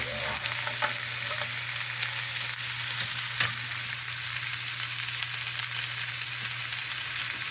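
Pizza frying in a cast iron pan, cooking toward a crisp, browned char; a steady, loud, close sizzle with a constant hum underneath and occasional faint stirring or scraping ticks, no talking.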